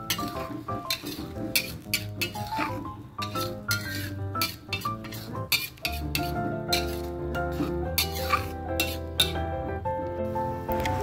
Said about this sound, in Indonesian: Kita tumis sebentar bersama bumbu halus tadi ya bun.